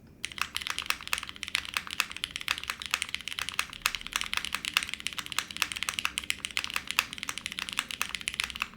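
Fast, steady typing on a custom F1 8x mechanical keyboard with a half plate, crisp clacky keystrokes landing in a dense, even rhythm up close with no one speaking.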